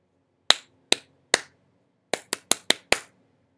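Hands clap out a rhythm in a quiet room: three evenly spaced claps, a short pause, then five quicker claps, each crisp and close.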